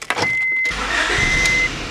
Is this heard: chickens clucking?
no